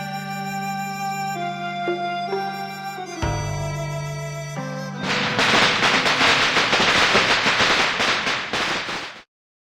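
Firecrackers burst in the video game Reverse: 1999, a dense crackling run of rapid pops following a tonal music passage, loud and close, ending abruptly.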